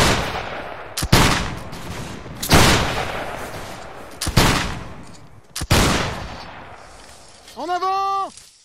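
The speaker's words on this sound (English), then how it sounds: "Ripple fire from the right," Musket volleys rippling down a line in a Napoleonic Wars battle game, five loud separated rolling cracks with echoing tails spaced about a second or more apart, followed by a brief rising tonal call.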